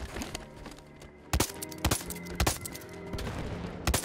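A chain gun turret fires in a video game: sharp, loud bursts of rapid gunfire break out repeatedly over a steady background of battle noise, with no talking.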